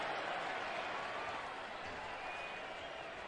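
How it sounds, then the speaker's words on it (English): Crowd noise at Arrowhead Stadium during a Raiders at Chiefs NFL game, a steady distant roar of the stadium crowd held at an even level, with some commentary audible over it. "The crowd noise can be false start."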